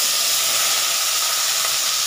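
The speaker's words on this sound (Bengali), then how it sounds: "প্রথমে আমি আলুগুলো দিয়ে দিচ্ছি ভাজার জন্য।" Potato pieces drop into hot oil for frying, producing a loud, unbroken, close-up hiss of sizzling that stays even for the whole moment.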